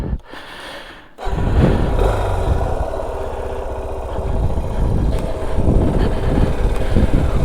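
A Suzuki DR 650, a big-bore 644cc single-cylinder motorcycle, starts up close by after a brief quiet moment, then settles into a steady, throbbing idle that continues to the end.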